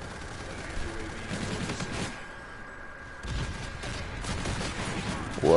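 A gun fires in Call of Duty: Infinite Warfare as rapid automatic bursts with a short pause between them, moderately loud, under a talking voice.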